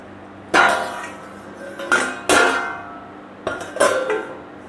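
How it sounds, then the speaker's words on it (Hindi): A lid set over a cake pan inside a kadhai, several sharp metallic clatters and scrapes of cookware, close and loud, in uneven bursts separated by quiet gaps. "केक को हम फिर से ढक देते हैं"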